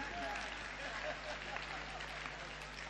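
Audience applause at a live Hindi comedy show: steady, fairly faint clapping from a crowd that fills the whole short stretch without pause.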